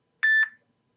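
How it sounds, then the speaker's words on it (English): A phone gives a single short electronic beep, a clear steady tone lasting about a quarter second with a brief fading tail, heard alone in an otherwise quiet room. "Sorry, phone."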